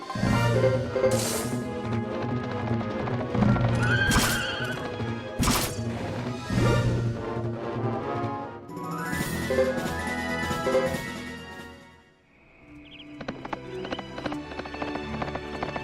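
Horses clip-clopping and neighing in the video game Suikoden III, with repeated hoof clatter and bursts of whinnying over busy game sounds, a brief dip near the end before the sounds resume.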